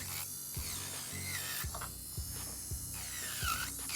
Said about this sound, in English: go ahead and get it down with this bit